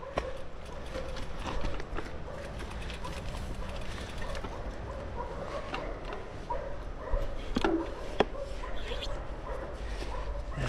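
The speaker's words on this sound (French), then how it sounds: "il y a encore des chiens qui aboient là" Dogs bark on and off in the distance along a mountain trail near Banca, faint yelps over steady outdoor noise and hoof-like clopping.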